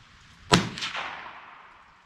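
A single sharp crack comes from a Citadel Trakr .22 WMR bolt-action rifle, with a short echoing tail that fades over about a second.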